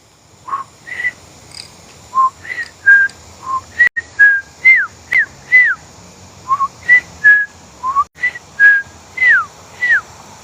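A person whistles to a bird outdoors with short clear repeated notes, many sliding up or down, in quick phrases of two or three spaced over ten seconds, loud and close.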